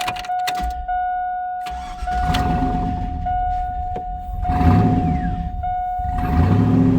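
Chevrolet GMT800 truck with a 4.8 LR4 V8 and its intake disconnected, idling roughly and steadily after starting, close and loud, with a high whine over the engine rumble.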